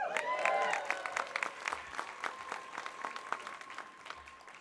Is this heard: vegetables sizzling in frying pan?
no